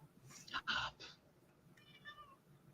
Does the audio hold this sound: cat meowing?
yes